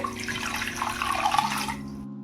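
Water splashes and trickles steadily in a basin as homemade butter is rinsed by hand, close up, with a faint steady hum underneath.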